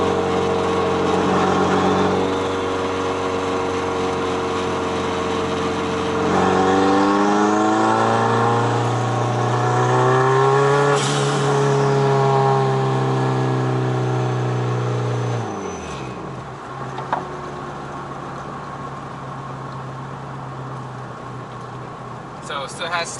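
An all-wheel-drive Honda Accord on a test drive, engine pitch climbing and dropping through several gear changes with road noise, heard from inside the car and loud throughout, fading toward a quieter cruise near the end.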